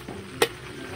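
Garlic browning in butter for spicy buttered garlic shrimp, stirred in the pan: a faint, steady sizzle with one sharp utensil scrape near the middle.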